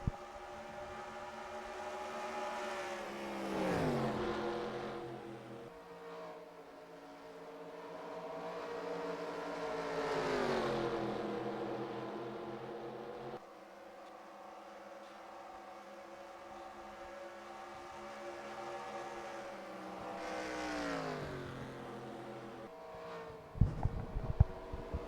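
Race cars in the NASCAR Racing 2003 video game on the final lap at Atlanta, engines droning steadily and swelling as cars sweep past in repeated rising-and-falling passes, with a short burst of noise at the end.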